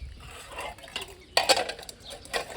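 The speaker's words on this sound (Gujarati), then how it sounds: "મમ્મી તો વાસણ તો ધોઈ રહી છે" Dishes being washed by hand, with irregular clinks and clatters of pots and utensils knocking together nearby, a sharper burst midway, over a quiet background.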